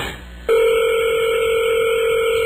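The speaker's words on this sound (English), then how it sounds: "Listen to that ring. It's like an old wooden phone in the middle of Hardee's." A telephone rings on a call placed to a Hardee's restaurant in Stafford, Virginia, a steady loud electronic ring tone that cuts in abruptly after a brief quiet moment and holds unbroken, old-fashioned in character, with no talk over it.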